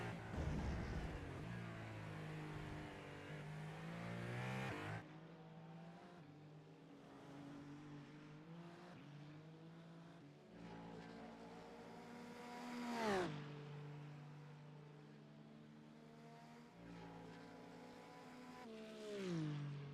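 A race car engine in a racing video game at Road Atlanta roars steadily, its pitch climbing under acceleration and dropping sharply at gear shifts and braking, loud and continuous with no talk.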